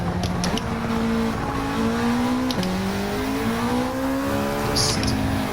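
A Honda Civic Type R FL5 lapping a race track, its engine note rising steadily through the gears with brief dips at upshifts, loud and continuous with faint tire noise and wind.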